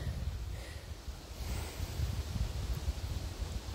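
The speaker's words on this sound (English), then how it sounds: "The wind picked up again" Wind gusts outdoors on a walk, heard as a soft, low rumbling buffet against the microphone that swells and eases in uneven surges, with faint rustling and no talking.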